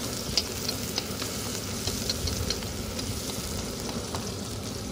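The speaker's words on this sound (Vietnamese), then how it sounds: "cho mình chiên mắm nha." Fermented snakehead fish paste frying in a pan with guava and onion, a steady crackling sizzle with small pops throughout, close and moderately loud, no voices.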